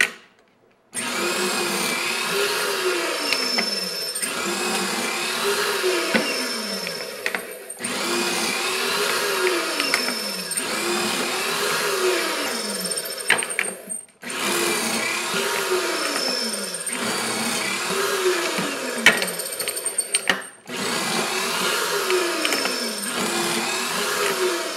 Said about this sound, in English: Once all the holes are drilled